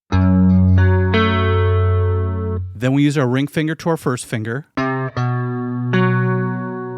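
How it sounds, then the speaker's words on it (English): A clean, sustained electric guitar plays ringing notes and a short phrase from a song, with someone speaking briefly in the middle before the guitar returns. "So let's start with it in clean sound first."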